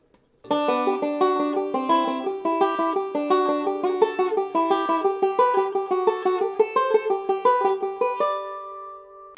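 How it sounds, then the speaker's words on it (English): Bright plucked banjo notes in quick, even alternate index rolls on double stops in thirds, played alone and close, ending on a sustained ringing chord. "the same single alternate index roll per double stop, except this time we're going to be doing in thirds"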